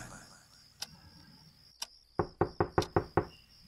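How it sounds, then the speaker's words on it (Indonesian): Knocking on a bedroom door, a couple of isolated taps followed by a quick run of six firm raps, close and distinct over a faint steady high tone. "Namun ketukan itu masih terdengar."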